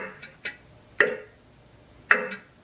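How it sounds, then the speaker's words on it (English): A portable white noise machine plays a clock-ticking sound: several crisp, close ticks at a slightly uneven pace, alone against a quiet background. "oh, it's a clock."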